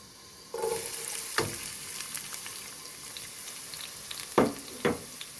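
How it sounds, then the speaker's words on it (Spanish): Chopped medium onion and garlic frying in about three tablespoons of oil, a steady close sizzle that starts suddenly, with a few scraping stirs of the pan, no talking. "lo vamos a freír, pero constantemente vamos a estar moviendo para que no se nos vaya a quemar"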